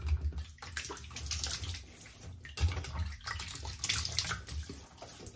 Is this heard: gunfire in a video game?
no